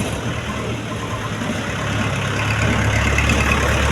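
A tractor engine rumbles steadily nearby on a village road, the low drone slowly swelling louder as it passes, with faint talk beneath the noise.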